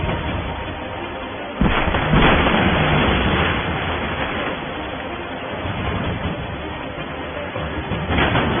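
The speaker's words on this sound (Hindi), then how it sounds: "अरे पाटिल साहब का घर तो सच में गिर गया।" A house collapses in a flood, a sudden loud crashing burst followed by a sustained heavy rumbling roar that continues for several seconds at high volume.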